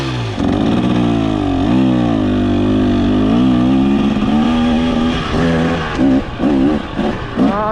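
A 2023 KTM 300XC two-stroke dirt bike engine runs loud and close while riding over rocks, holding a buzzing drone that rises and falls with throttle changes, then breaks into choppy bursts of blips toward the end.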